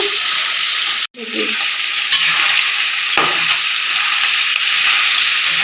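Chicken fries in a pan for a Nepali-style chicken fry, making a loud, continuous close sizzle that stops for a moment and then resumes, with faint stirring scrapes underneath.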